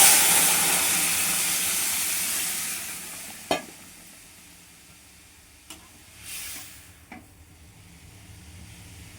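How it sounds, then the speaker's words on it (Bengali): Arhar dal with vegetables hits a hot pan: a loud hissing burst that steams and fades over several seconds, followed by a few sharp spoon knocks and quieter bubbling. "এবার ডালটা ঢেলে দিই।"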